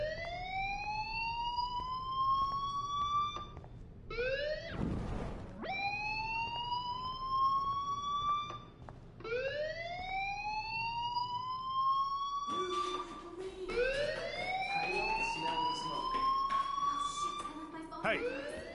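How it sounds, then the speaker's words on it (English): A fire alarm in the video game Life Is Strange wails in loud, repeated rising sweeps roughly every four seconds, each climbing steeply then holding, over a faint low hum. "Hey, do you hear that fire alarm?"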